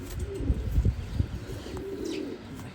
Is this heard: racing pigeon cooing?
yes